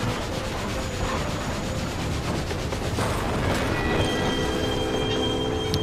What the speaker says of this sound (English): Down the the Phantom Train goes.